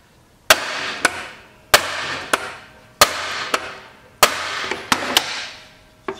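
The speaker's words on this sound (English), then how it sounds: "I got a brass hammer." A brass hammer strikes a metal part of an old engine being revived, landing in pairs: a sharp ringing blow followed by a lighter tap, repeated about five times with short decays between.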